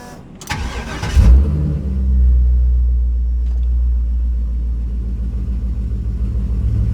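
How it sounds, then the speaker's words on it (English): A 6.0-liter LQ4 V8 with a 2.5-inch straight-piped exhaust and X pipe, heard from inside the car: a sharp start-up bark followed by a loud, deep rumbling idle that holds steady and slightly swells. "you'll be able to hear this exhaust from the inside of the car"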